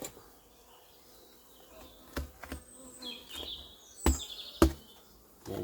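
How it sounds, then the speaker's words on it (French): Honeybees from a hive with the cover board lifted after a puff of smoke buzz in a steady low drone, broken by several sharp clicks and knocks from handling the frames. "Là on voit qu'il y a des abeilles."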